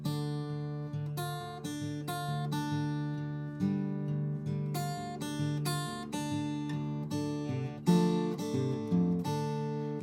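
Single notes plucked on a guitar's first string one after another in a slow melodic line, clear and ringing, with no talking.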